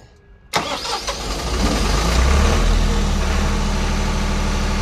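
A generator engine cranks over after a quiet moment and catches at once, then rises into a loud, steady, close running drone with a deep rumble that holds to the end.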